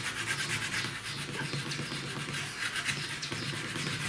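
Continuous rubbing and scraping as a hide facing is polished and pressed onto a wooden Viking shield board to smooth out wrinkles, a steady close-up friction texture with no talk.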